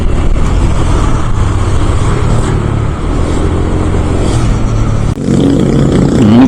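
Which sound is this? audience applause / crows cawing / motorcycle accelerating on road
motorcycle accelerating on road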